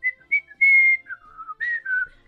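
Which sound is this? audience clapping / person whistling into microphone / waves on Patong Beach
person whistling into microphone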